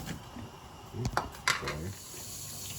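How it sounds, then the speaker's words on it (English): Cold tap water runs over blanched broccoli in a kitchen sink, giving a steady close hiss of flowing water with a few brief splashes and clatters from the florets and pot. "Just going to throw the cold water on it for a minute to stop the cooking process."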